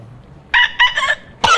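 A person mimics a village chicken rooster crowing up close, in three quick bursts: two choppy crows followed by a third starting right at the end.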